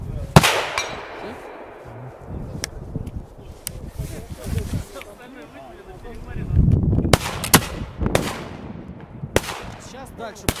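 Several sharp outdoor gunshots ring out at irregular intervals, loud and cracking, with quieter rustling and movement between them.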